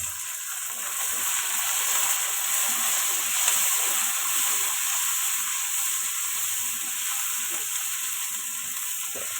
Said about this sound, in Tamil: இதில் தக்காளி பழம் போட்டுக்குவோம்